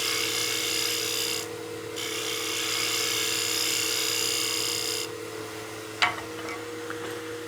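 A bowl gouge shear-scrapes a wooden block head spinning on a lathe, making a steady raspy hiss over the machine's hum, briefly lifting off and resuming, then stopping with a single sharp tick near the end.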